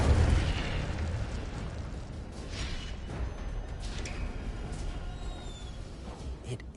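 Incendio fire spell cast in the Hogwarts Legacy video game: a loud fiery burst at the start settles into a sustained rumbling, crackling roar of flames, with a few faint whooshes later and a voice in the background.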